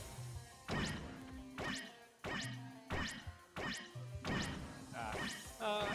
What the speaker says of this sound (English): Yoshi will keep forward smashing.